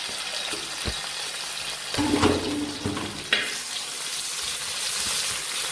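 Shallots fry in coconut oil in a pan for beef fry, a steady close sizzle with a few clicks and stirring knocks, moderately loud, with no voices.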